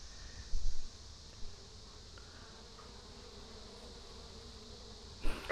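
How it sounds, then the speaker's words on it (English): Honeybees buzz over the frames of an open beehive, a soft, continuous insect drone with a few brief bumps of handling noise. "There's a lot of bees on here."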